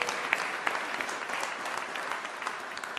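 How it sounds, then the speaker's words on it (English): Audience applause at an Ontario government press conference, a steady patter of many hands clapping at moderate distance for several seconds. "It's like a guaranteed applause,"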